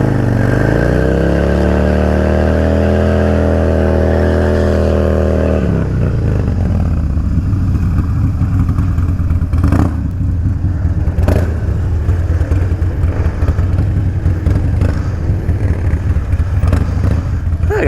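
A motorcycle engine revs loudly up close in wet weather during a braking stunt, holding a rising drone before dropping into a rough idle and clattering rumble with a few sharp knocks.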